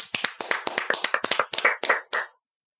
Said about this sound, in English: Clap for Klopfer.